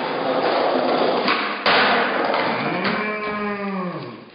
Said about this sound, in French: Et la vache saute à la barrière.